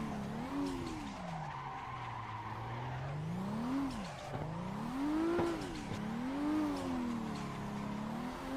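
A car drifts in Assetto Corsa with long, wavering tire squeals rising and falling over a revving engine, several sustained slides close and loud, with no voices.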